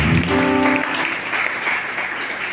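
Church congregation applauding together in a sustained burst of clapping, fairly close and steady, with a brief sung or voiced tone at the start.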